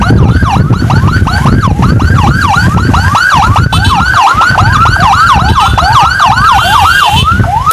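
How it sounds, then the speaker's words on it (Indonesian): A loud ambulance siren wails up and down rapidly and continuously, very close behind on a road in Samarinda, with traffic rumble underneath. "Wow, ditempel ambulan, kencang kali."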